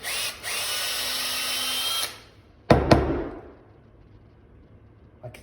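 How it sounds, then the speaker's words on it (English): A rotating wire brush whirs in and out of the hosel of a TaylorMade P770 golf iron head, a high steady buzz for two seconds before stopping, then a couple of sharp taps and a ringing decay. "a rotating wire brush in and out, gently tapping out whatever's in the hole."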